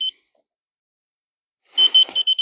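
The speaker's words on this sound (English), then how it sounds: "just to get it to where the line's going to stop beeping at me" Laser level beeping while a deck frame is propped on a support block and adjusted: one short high beep, a pause, then a quick burst of four or five clipped electronic beeps, close and loud.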